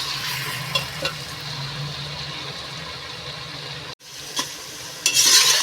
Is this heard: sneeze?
no